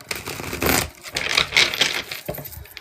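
Thick, stiff tarot card deck being shuffled by hand, a burst of crisp riffling and slapping card sounds close up, coming in uneven bursts with brief pauses between them.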